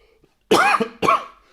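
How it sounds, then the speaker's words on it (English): Two harsh coughs, close and loud, one right after the other with a brief gap, then silence. "sorry about all the sniffling and coughing today"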